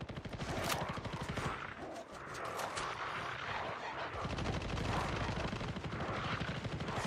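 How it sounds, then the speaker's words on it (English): Sustained light machine gun fire from several players in a competitive video game match, dense overlapping rapid shots running continuously at moderate level with battle noise beneath. "It's just a spam of LMGs."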